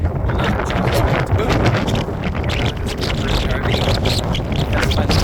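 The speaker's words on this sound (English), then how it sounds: "it's insanely windy out today" Strong gusting wind near Nags Head, North Carolina buffets the microphone in a loud, continuous roar with rumbling low-end thumps throughout.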